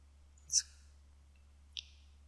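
Two crisp mouse clicks on a computer, selecting the Next button while editing a map legend in GIS software: a sharper click near the start and a lighter one later, close and quiet against a low steady hum.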